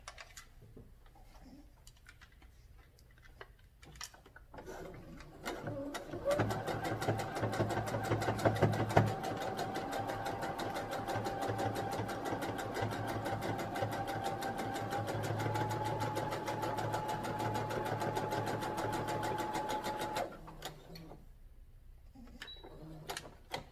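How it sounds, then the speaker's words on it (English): A sewing machine stitching fabric for a face mask runs steadily for about fourteen seconds with a rapid mechanical clatter, close by, then stops; quieter handling noises before and after. "I've had this sewing machine for years and just busted it out the other day to make some masks."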